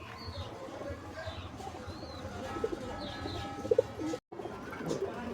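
A male fancy pigeon coos repeatedly in low rolling phrases in a loft of Madras and Malwai birds, with other pigeons murmuring around it and faint background chirps.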